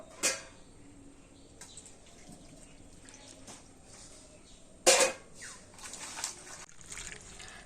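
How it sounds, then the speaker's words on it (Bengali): Chopped spinach leaves washed in water, quiet splashing and trickling with two sharper splashes near the start and middle, close but faint, no talk. "এগুলোকে জল দিয়ে খুব ভালো করে ধুয়ে নেব"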